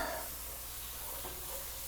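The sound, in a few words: stirring caramelizing onions in a pot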